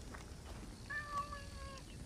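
A burning cat meows in a video game, one drawn-out, wavering meow that is fairly faint over steady background noise.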